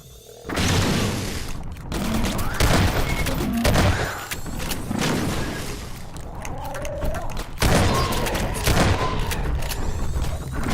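Dense gunfire and exploding darts fill a Half-Life 2 firefight, continuous rattling shots and booms running the whole time without a break, loud and close.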